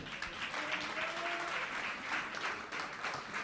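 Congregation clapping during a church service, a dense wash of applause throughout with a faint sustained tone beneath, no speech over it.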